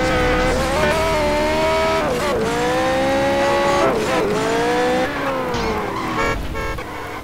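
A vehicle driving in GTA San Andreas gives a loud, continuous engine drone whose pitch climbs and drops repeatedly through gear shifts, with no voices over it.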